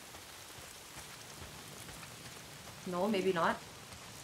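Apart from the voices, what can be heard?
rain falling in Days Gone video game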